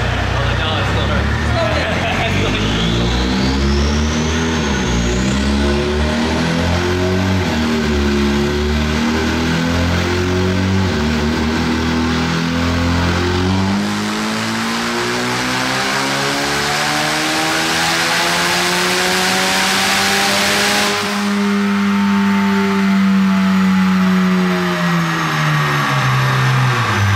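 The engine of a tuned EcoBoost Mustang, making around 400 hp and 500 lb-ft, revs on a dyno in long, loud pulls that climb in pitch, drop back, and climb again, with the roar filling the room.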